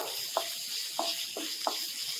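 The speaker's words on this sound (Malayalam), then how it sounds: "രണ്ടും കൂടെ കിടന്ന് നന്നായിട്ട് മൂക്കണം." Ginger and shallots fry in oil in a pan for Kerala ginger curry, a continuous hiss of sizzling broken by four or five soft spatula scrapes at a regular pace.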